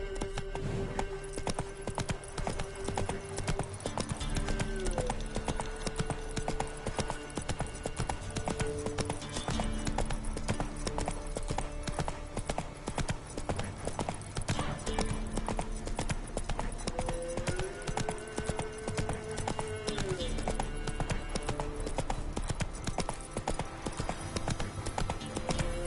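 Roach the horse gallops in The Witcher Wild Hunt, a rapid, unbroken clip-clop of hooves running the whole time over a dense game soundscape with music.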